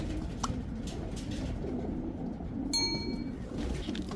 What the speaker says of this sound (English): the pigeons are basketed, ready to go